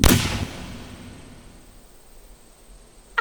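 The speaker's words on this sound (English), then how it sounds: "Now I gotta explain to our mother what that gunfire's all about." A single loud gunshot cracks at the start and decays into a long fading echo, in an outdoor frontier-era battle setting against the American army, with another faint sharp report at the very end.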